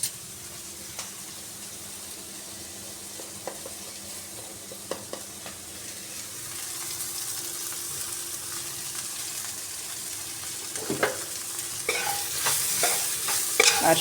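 Turmeric is stirred into onions frying in a pan, giving a steady low sizzle with scattered scraping stirs that grow busier and louder toward the end.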